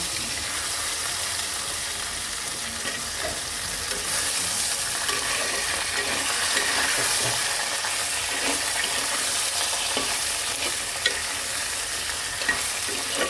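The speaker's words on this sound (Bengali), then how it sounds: "এবার তেজপাতা আর জিরাটাকে একটু হালকা ভেজে নেব" Bay leaves and cumin frying in a pan for a taro and fish curry, a steady close sizzle with occasional stirring scrapes, no voices.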